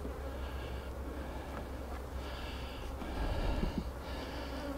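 Bees buzzing around a honey-filled hive box with capped comb in a bee yard, a soft, continuous droning hum with wings rising and fading close by.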